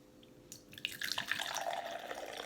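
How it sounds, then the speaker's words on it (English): Pineapple sage hard cider pours into a glass with a close, steady fizzing splash that starts abruptly and keeps running. "Now for the pour."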